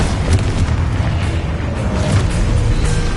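Confringo blasting-spell explosions in the Hogwarts Legacy video game hit as loud, dense booms over a continuous rumbling battle din, with no gap for the whole three seconds.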